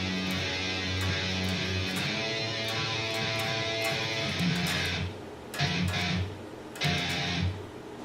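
Guitar plays the lower rhythm part of a theme in 5/4, a repeating pulsing pattern of low notes that stops briefly twice near the end before resuming, moderately faint and with no talk.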